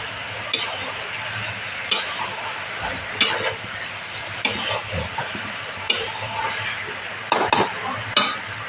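Jackfruit curry with salt and spices being turned in a pan, a spoon scraping and clinking at intervals over a continuous low sizzle, close and fairly loud.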